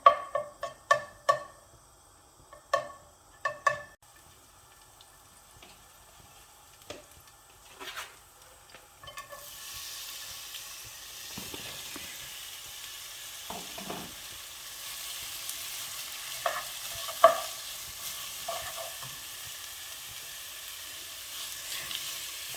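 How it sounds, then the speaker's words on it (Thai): Garlic and onions fry in olive oil in a pan for French onion soup, starting with a few sharp clatters and stirring knocks, then a steady loud sizzle that continues under occasional stirring scrapes, with no talk. "แล้วใส่กระเทียมลงไปค่ะ ใส่กระเทียมลงไปละ"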